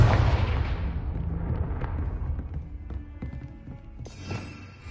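A Confringo fire spell bursts in the video game Hogwarts Legacy: a loud blast at the start rolls off into a fading rumble, followed by scattered small thuds and a brief bright crackle near the end.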